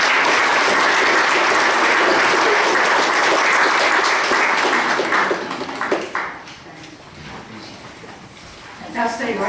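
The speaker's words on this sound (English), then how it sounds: "Let's give Tammy another round of applause." Audience applause at a county fiscal court meeting, loud sustained clapping from a room of people for about six seconds, then tapering into scattered claps with voices murmuring underneath.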